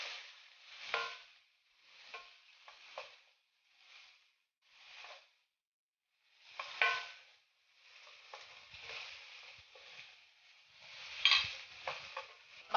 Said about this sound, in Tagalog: kailangan natin maluto muna yung ating fresh tomato